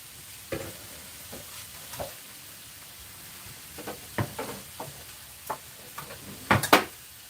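An omelette cooks in a buttered pan, a quiet background sizzle broken by scattered stirring and scraping clicks of a utensil against the pan, growing more frequent near the end.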